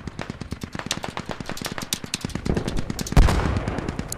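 Rapid bursts of automatic gunfire from the tactical shooter video game Squad, steady rattling volleys that grow louder and denser toward the end, with a sharp heavy blast near the close.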